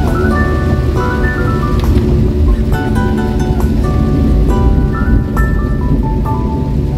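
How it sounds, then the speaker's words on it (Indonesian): Heavy rain pours down on the village of Pondos in Minahasa, a loud, steady, dense roar that continues without a break, with faint tonal hums from a moving vehicle underneath. "Beginilah suasana di Minahasa kalau hujan."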